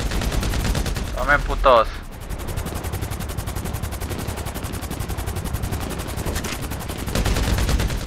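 Rapid automatic gunfire in GTA V fired at pursuing boats, with dense, continuous bursts running nearly the whole time and a brief shouted voice early on.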